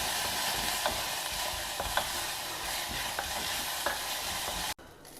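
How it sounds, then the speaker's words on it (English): Dals and fresh curry leaves frying in hot oil, a dense steady sizzle with a spoon stirring and scraping the pan every second or so, up close and loud, ending abruptly. "Add a handful of fresh curry leaves to this and again give this a stir"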